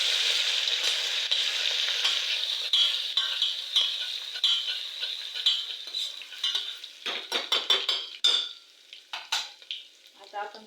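Crushed ginger and green chilli paste stirred in a hot frying pan for masale bhaat: a steady sizzle under scraping strokes, giving way toward the end to sharper, separate clinks of the spoon against the pan.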